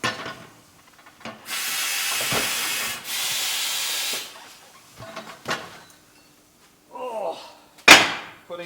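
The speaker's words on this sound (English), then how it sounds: "Now you step on the pedal. It opens the clamp." A pneumatic clamp on a tire changer machine, worked by a foot pedal, lets out loud bursts of compressed air hiss, one long blast interrupted briefly, then shorter hisses and clanks, with a sharp final burst.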